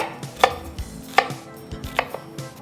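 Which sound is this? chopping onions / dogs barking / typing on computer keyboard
chopping onions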